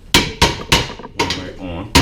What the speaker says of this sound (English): Hammer it on there too so it goes on right.